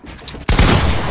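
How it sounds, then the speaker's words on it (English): Video game gunfire comes as one sudden loud burst after a quieter moment and then rings on as a dense, sustained blast. "Isaac, I shot Jesse at the head for 34"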